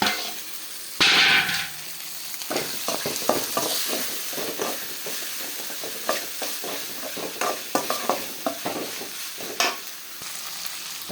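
Tomatoes sauté in a pan for chicken thokku, a continuous close sizzle punctuated by repeated rhythmic scraping and knocking of a spatula against the pan, loud and busy with no talking.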